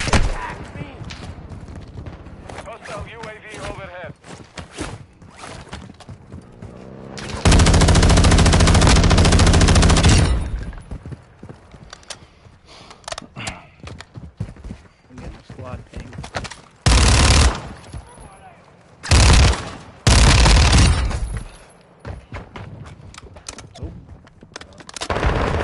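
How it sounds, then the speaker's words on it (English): Gunfire in the DMZ video game mode: dense bursts of automatic fire and scattered shots crackle throughout, with several loud sustained volleys and booms standing out, while players talk intermittently over the fighting. "I don't even know who's shooting."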